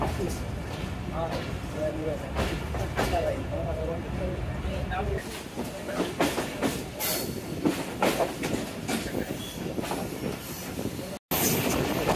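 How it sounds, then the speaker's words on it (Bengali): A train pulls away from Dhaka's Airport railway station with a steady rumble, rising wheel squeal and rhythmic clickety-clack on the rails, loud and close, with faint voices in the background. "ট্রেন ছেড়ে গেল ঢাকার বিমানবন্দর রেলওয়ে স্টেশন থেকে"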